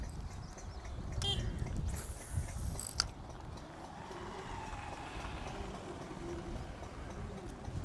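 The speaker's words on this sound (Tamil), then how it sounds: "ரீலு கொஞ்சம் பிரச்சனை இருக்குது. மட்டுக்குன்னு ஒரு சவுண்டு வந்துச்சு பாருங்க" A spinning reel on a Eupro X-Fury rod, out snakehead fishing, gives a few sharp mechanical clicks from a faulty mechanism over steady outdoor background noise, with no one talking.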